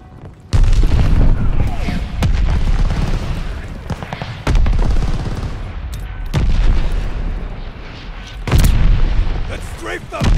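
Mortar fire in the Call of Duty: Vanguard video game, with a string of heavy booms and blasts landing over a dense rumble of gunfire and battle noise, loud and close throughout.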